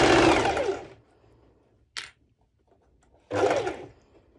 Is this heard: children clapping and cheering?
no